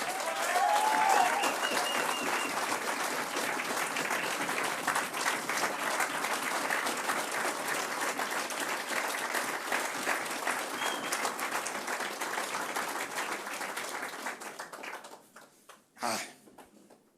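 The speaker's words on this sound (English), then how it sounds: "So I'd like a big round of applause from my man, Eric Workin." A big, sustained round of applause fills a college athletics hall of fame ceremony for an inductee, many hands clapping steadily for about fifteen seconds before fading out, with a brief sharp burst near the end.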